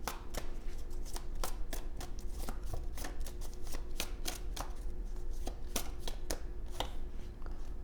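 Tarot cards being shuffled close up, a steady run of crisp, rapid card slaps and riffles at an even volume with no talking.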